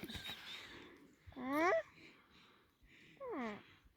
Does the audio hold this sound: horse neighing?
yes